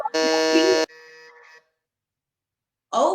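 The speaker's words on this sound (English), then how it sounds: "Both the girls have pressed the buzzer." Quiz-show buzzer pressed by contestants during a semi-final round: a loud, harsh electronic buzz lasting under a second, then a quieter second tone, silence, and a brief voice at the end.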